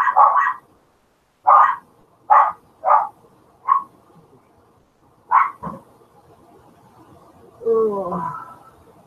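Several dogs bark in short sharp bursts with pauses between, close and fairly loud, ending in a whining, whimpering yelp.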